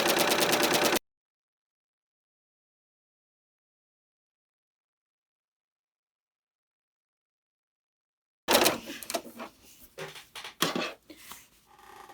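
A serger runs along a fabric edge in a rapid, evenly pulsing burst lasting about a second. A long silence follows, then irregular nearby clatter and handling noises.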